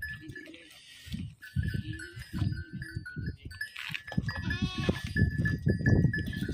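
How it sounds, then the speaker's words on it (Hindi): Spotted goats on a farm bleat repeatedly at close range, several overlapping calls in a busy, continuous stream with no talking. "देखो कितनी स्पॉटेड बकरी है बहुत नाइस क्वालिटी में सभी जानवर हैं।"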